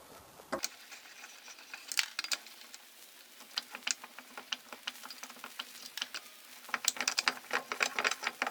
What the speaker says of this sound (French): on finit d'enlever les écrous.